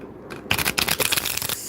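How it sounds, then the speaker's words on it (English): A new, stiff deck of cards with a metallic-style finish being shuffled up close, a quick burst of crisp riffling clicks and flutters following a couple of soft handling taps. "It's new, and I haven't used it that much to shuffle."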